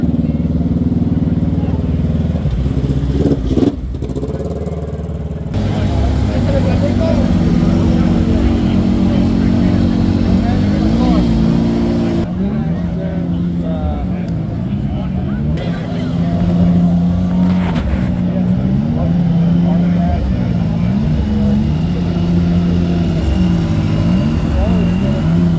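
A rough, rumbling engine idles steadily for a long stretch, its pitch wavering slightly, with brief breaks and faint sounds over the drone.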